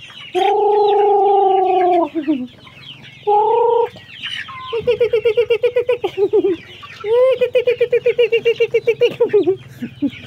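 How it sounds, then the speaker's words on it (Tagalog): Chickens kept by a young cousin on a Filipino farm cluck and call loudly and close, with drawn-out squawks and bursts of rapid repeated clucking, alone without talk. "nag-alaga sa mga manok"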